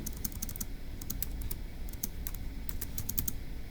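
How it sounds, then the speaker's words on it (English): Rapid, uneven bursts of clicking keys as notes are typed on a computer keyboard, close and crisp over a low background hum, with brief pauses between runs of keystrokes. "So let's go ahead and type that up in our notes."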